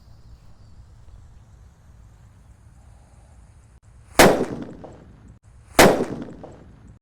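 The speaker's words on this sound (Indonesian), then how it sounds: "di sini ada mercon petir bosku" Two sharp, loud mercon petir firecracker blasts about a second and a half apart, each a sudden bang trailing into a brief rumble, over a quiet outdoor background during Ramadan celebrations.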